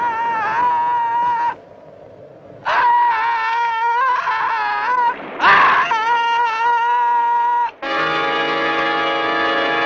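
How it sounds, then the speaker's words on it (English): A man screams in agony while being eaten alive, loud drawn-out wailing cries in repeated bursts with short gaps, ending in a sustained high shriek. "Listen to those screams."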